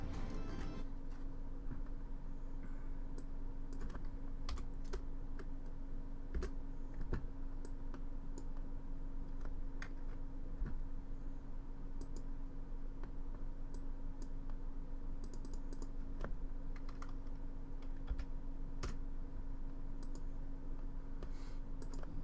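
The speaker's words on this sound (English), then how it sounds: "I was typing the numbers up so I can see them visually" Steady typing on a computer keyboard, a long run of quick, soft key clicks at close range over a low background hum, with no voices.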